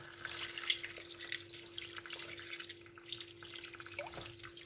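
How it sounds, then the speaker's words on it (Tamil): Water is poured and dripped into a simmering prawn curry in a home kitchen, a soft trickling and splashing that continues quietly for several seconds alongside a low steady hum. "இந்த டைமில் வந்து நாங்கள் எங்களுக்கு தேவையான அளவு தண்ணி சேர்த்துக்கொள்வோம்"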